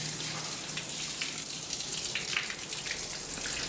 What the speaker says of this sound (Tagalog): pwede na natin siyang sprayan ng tubig